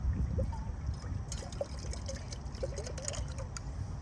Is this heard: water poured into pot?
yes